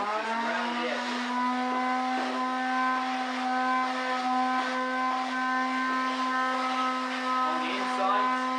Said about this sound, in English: So again, with a little palm sander, just round the edges.